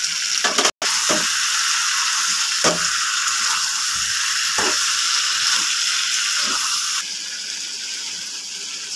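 Chicken fries in a pan for a chicken curry, giving a steady, loud, close sizzle that runs without a break, with a few soft stirring scrapes and a brief drop partway through. No one speaks.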